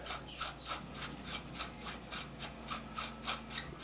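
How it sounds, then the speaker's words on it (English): Part of a Mossberg 500 shotgun being unscrewed by hand, giving a steady series of short rasping, scraping rubs in a regular rhythm, close and fairly quiet with no talking. "just unscrew it out of there"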